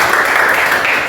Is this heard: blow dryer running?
no